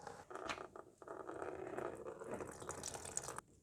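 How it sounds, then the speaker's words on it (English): Coolant pouring from the radiator drain of a Mercedes W210 E220 CDI, a steady close-up splashing trickle of liquid running for a few seconds before cutting off abruptly. "Now all you have to do is to open this switch and the coolant will come out."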